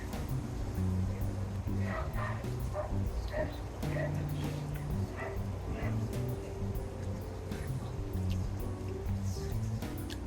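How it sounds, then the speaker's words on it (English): A dog barks and yips in short bursts against a busy outdoor background on Maui, Hawaii, the calls fairly close and moderately loud. "Dog barking."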